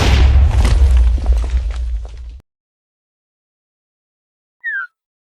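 A Minecraft creeper explosion in an animation: a loud, booming blast with rumbling low end that fades out after about two seconds, followed by silence and a brief high chirp.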